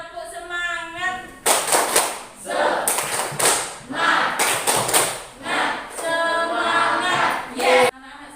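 Schoolchildren in a classroom perform a rhythmic spirit clap, loud bursts of synchronized claps alternating with shouted group chanting, with a teacher's voice heard at the start and end.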